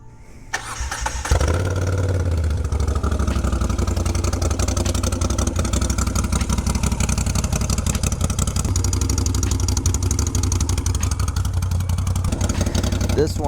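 A starter motorcycle with no baffle in its exhaust is started up and settles into a loud, close, steady idle with a raw, aggressive rumble that runs for many seconds.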